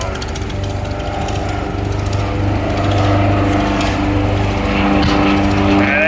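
WWI aircraft engines, a SPAD VII and Fokker triplane, droning loudly and steadily during an airshow dogfight at Old Rhinebeck Aerodrome, a rough rumbling roar that builds slightly as the planes close in.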